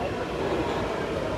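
A metro train rumbles steadily at a station, a continuous broadband roar with faint rail rattle throughout the short stretch, no talk over it.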